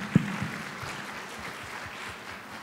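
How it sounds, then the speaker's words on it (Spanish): Faint audience applause at a panel discussion on institutional reputation: a soft, steady patter of clapping from a seated crowd that stays low and even throughout, with no voices on top. "Un aplauso para Teófilo también"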